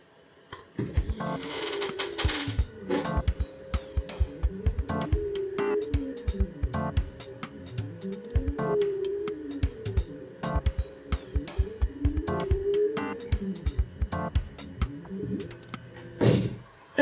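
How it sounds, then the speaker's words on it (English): A Two Trees Totem S laser cutter working through felt fabric, its stepper motors whirring in repeating sweeping tones broken by sharp ticks and clicks, steady and close with no talk. "And let's start the cut."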